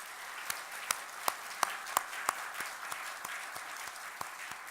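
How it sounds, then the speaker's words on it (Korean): A church congregation applauds during a Sunday worship service, a sparse, fairly quiet patter of claps in a large room with a few sharper individual claps standing out at a steady pace. "하나님께 영광의 박수를 올려드리겠습니다."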